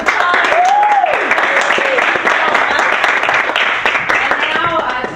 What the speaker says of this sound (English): let's give Chrissy a big round of applause